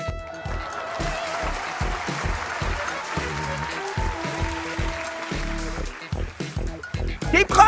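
Studio audience applauding at a late-night talk show, a steady wash of clapping that carries through the whole stretch, with a host's voice talking over it toward the end.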